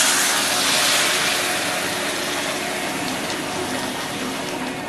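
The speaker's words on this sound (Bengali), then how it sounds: "এবার আমি গরম জলটা এর মধ্যে দিয়ে দেব।" Hot water pours steadily into a cooking pot for banana kofta curry, a continuous rushing, splashing stream that stays fairly loud and even throughout.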